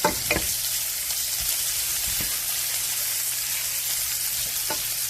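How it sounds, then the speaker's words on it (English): Three slices of chopped bacon fry in a pan with a constant bright sizzle close by and a few soft clicks near the start. "I got 3 slices of chopped up bacon going into my pan."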